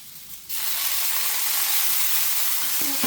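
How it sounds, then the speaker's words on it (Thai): Water mimosa stir-fried in a little sizzling oil, with a splash of water added: a loud, steady broadband sizzle and hiss bursts in after a brief quiet moment and keeps going close up. "เราก็ต้องเติมน้ำเข้าไปก่อนนะครับ นิดนึง ไม่ต้องเยอะนะครับ เดี๋ยวน้ำมันจะกระเด็น"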